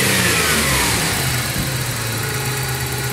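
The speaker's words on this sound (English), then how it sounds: "See, the idle is a little bit better." A car engine idles after a vacuum leak hose was fixed. The loud, steady, close-up rumble and hum barely varies, with a slight rough pulse underneath.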